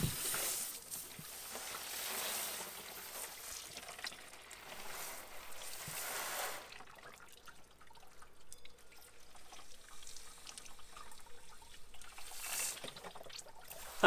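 Water from a garden hose flushes through a Jeep XJ heater core and spills into a jug, a steady hissing, trickling rush that fades and swells over the span with no talking.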